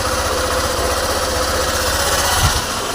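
A motorbike engine running steadily just after a cold start, a close, continuous idling drone with a low pulsing throb and no one talking.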